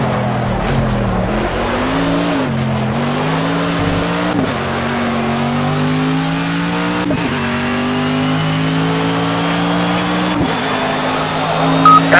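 Race cars howl around a track in the video game Project Cars, engines revving up through the gears with brief dips at each shift, loud and continuous close to the listener.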